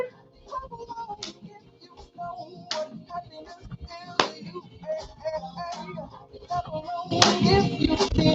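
Hands clap in time with upbeat pop music at a dance class, a steady beat of claps under the song that grows louder and fuller toward the end as more people join in.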